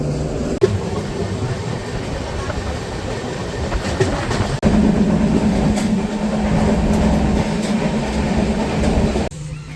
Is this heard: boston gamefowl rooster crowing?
no